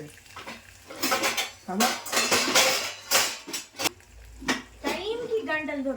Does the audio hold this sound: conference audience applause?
no